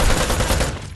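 AKM rifle fire in a video game, a rapid loud burst of close automatic shots packed tightly together, tailing off slightly at the end.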